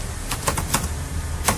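Bursts of quick keystrokes on a computer keyboard as a short code comment is typed, close and clicky, with uneven pauses between clusters of taps and no talking.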